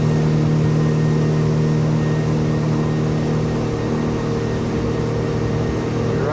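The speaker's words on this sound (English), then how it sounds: "Something don't sound right on that motor." A boat motor running roughly on a river drones steadily and loudly throughout, a constant low hum with a slightly uneven, rough texture and no voices.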